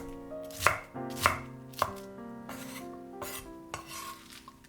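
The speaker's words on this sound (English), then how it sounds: "Cut 2 Chinese cabbage leaves." Knife chopping two Chinese cabbage leaves on a cutting board in a home kitchen, with a few distinct, crisp cuts followed by lighter, quicker taps, close and quiet with no talking.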